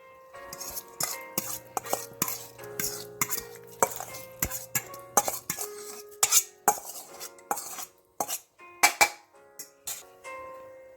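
A metal spoon knocks and scrapes against a cooking pot while mashed pumpkin goes back in for a Jamaican pumpkin soup with smoked turkey neck and beef, giving a series of sharp, ringing clinks in irregular bursts, close by.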